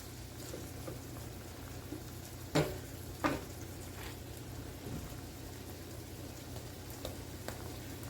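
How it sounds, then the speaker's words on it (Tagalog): A steady low bubbling rumble of water boiling in a pot for spaghetti, with a couple of sharp clinks and faint stirring noises over it. "kumukulo na po ang ating tubig"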